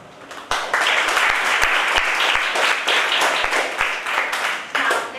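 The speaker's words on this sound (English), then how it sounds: "please give a big round of applause to all the contestants who made their great effort today" Audience applause for contestants at a public speaking competition qualifying round, a dense sustained burst of many hands clapping that starts abruptly after half a second and holds loud and steady to the end.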